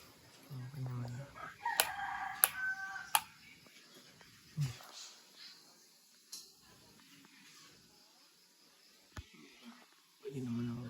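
A rooster crows a few times, moderately near, between quiet gaps and soft background noise, with people talking briefly now and then.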